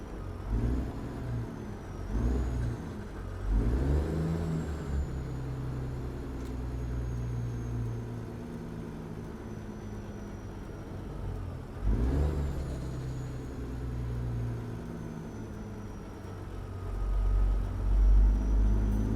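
A truck rolls along a forest road at a fairly quick pace, its engine rumbling steadily with a couple of swells as it accelerates, close and continuous with no talking.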